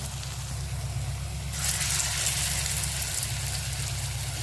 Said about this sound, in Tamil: எண்ணெய்ல போட்டு பொரிக்க வேண்டியதாங்க